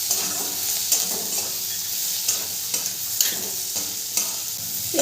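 Chopped tomato stirred into frying ghugni in a pan: a constant sizzle, with regular scraping strokes of the spoon every second or so and no talking.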